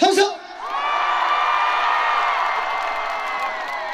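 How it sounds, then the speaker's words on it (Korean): A concert audience at a provincial sports festival event lets out a big cheer on cue, a sustained roar of many shouting voices that rises after a short voice and holds loudly for several seconds. "자, 우리 2층 함성 소리가 얼마나 큰지 한번 들어보도록 할게요"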